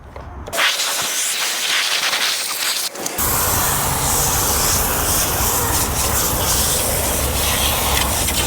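A pressure sprayer rinses a car's wheel and tire, a loud steady broadband hiss of spraying water that cuts in briefly, pauses, then runs continuously up close.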